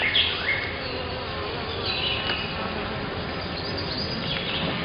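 Honeybees buzzing steadily and loudly during a hive inspection, a dense continuous drone close by with no talk over it.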